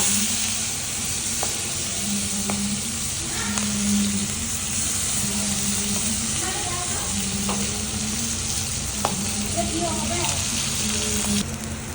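Onion with cumin and garlic paste sizzling steadily in hot oil for a Bengali tomato rui fish kalia, with occasional stirring clicks and a soft voice underneath.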